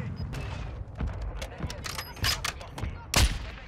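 Mortar strikes and gunfire in the video game Warzone 2, a burst of heavy thumps and booms mixed with rapid shots, ending in a loud impact near the close, heard alongside talk.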